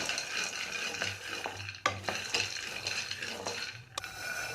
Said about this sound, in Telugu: తక్కువ ఫ్లేమ్లో రోస్ట్ చేసుకోవాలి నిదానంగా